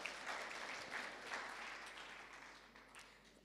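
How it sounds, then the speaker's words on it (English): Audience applause at a book launch panel discussion held in a bookstore, a moderate crowd clapping steadily at a fairly quiet level, slowly thinning toward the end. "Let's give a clap to the Nuria Bookstore."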